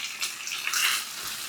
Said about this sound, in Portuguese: Agora, um pouquinho só de amido de milho dissolvido e um pouquinho de água. Só jogar um pouquinho para dar uma engrossada nesse caldo.